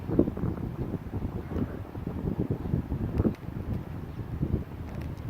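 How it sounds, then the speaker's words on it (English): Steady wind buffeting the microphone outdoors at an air rifle shooting range, a low rumbling roar with gusts that swell and fade, no voices present. "A little windy today, shouldn't be too bad."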